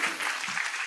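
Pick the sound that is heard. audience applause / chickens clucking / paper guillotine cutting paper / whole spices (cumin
audience applause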